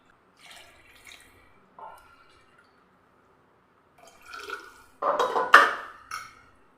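About one and a half cups of water is poured into a semolina (rava) mixture for a breakfast dish, giving a few soft drips and light clinks, then a louder splashing pour and slosh near the end, with no voices.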